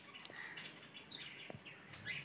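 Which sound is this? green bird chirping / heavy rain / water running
green bird chirping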